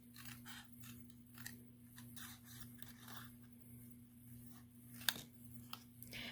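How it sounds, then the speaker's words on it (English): Scissors cutting cardstock while crafting an Easter treat box, a string of faint, soft snips and scrapes over a steady low electrical hum, with one sharper click. "Kind of holding my scissors in the same place."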